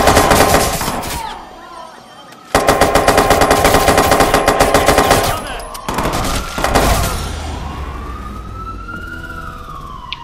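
Automatic gunfire in Watch Dogs 2: loud, rapid bursts of shots with short pauses between them, ending in a quieter stretch with lingering background game sounds.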